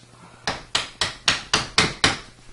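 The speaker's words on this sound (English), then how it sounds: "gently knock a shim shingle in" Hammer tapping a wooden shim shingle into a door frame gap while hanging a door, seven sharp evenly spaced knocks about a quarter second apart, close and fairly loud with no talk.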